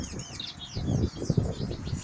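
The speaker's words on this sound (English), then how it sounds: "You can see also the birds are there." Small birds chirp and tweet outdoors on a morning in a Kenyan village, with quick overlapping calls and some rustling, fairly close and steady.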